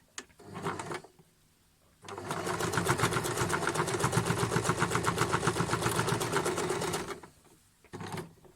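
A sewing machine joins quilt patchwork pieces, starting with a brief burst and then running in a loud, steady, rapid stitching stretch for about five seconds before stopping, followed by a short final burst.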